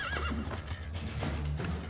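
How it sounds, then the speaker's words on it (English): A horse whinnies with a shrill rising neigh while hooves clop beneath it in the Assassin's Creed II video game, loud and up close over a dense game soundtrack. "Stop punching my horse!"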